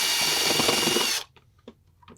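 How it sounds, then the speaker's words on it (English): A power drill with a bigger drill bit runs loud and steady for about a second, building a safe(ish) 120V testing device, then cuts off to near quiet with a few faint knocks and handling sounds. "I can actually modify with a bigger drill bit."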